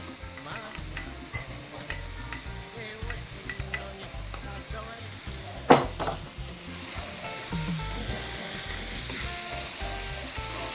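Bell pepper frying in a little oil for a Beninese banana omelette: a close, steady sizzle with utensil scrapes and stirring, one sharp clack of metal, and the hiss swelling near the end.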